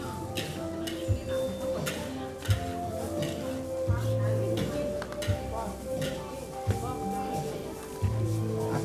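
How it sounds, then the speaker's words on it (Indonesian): A spatula scrapes and stirs grated coconut dry-roasting in a pan, giving repeated rhythmic clacks against the metal with a soft sizzle beneath, while a voice speaks over it. "Aduk terus, jangan sampai luput adonan atau sangrai dari kelapa parut ini."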